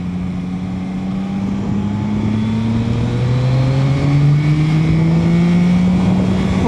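A 2025 Yamaha Tracer 9 GT Y-AMT motorcycle accelerates hard, its engine note rising in pitch through the gears, loud and close with wind rush building behind it.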